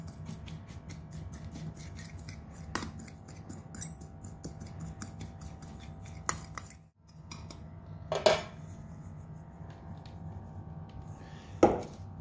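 Spices for a pastrami brisket rub are mixed by hand with utensils, giving close, scattered clinks and scrapes against a bowl, a few sharper knocks standing out over a quiet background.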